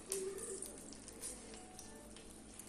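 Butter and oil melt in a pot for vegetable rice, giving a faint, steady crackling sizzle with small irregular pops throughout.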